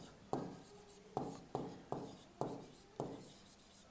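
Pen writing by hand on paper during a Class 12 maths solution, a run of about six crisp strokes and taps in an uneven rhythm, close and quiet, with no talk.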